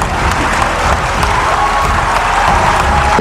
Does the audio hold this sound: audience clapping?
yes